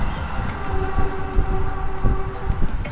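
A train passing close by an ungated railway crossing: a loud, continuous rumble with rhythmic clacks of wheels over rail joints and a steady tonal hum, with no talking.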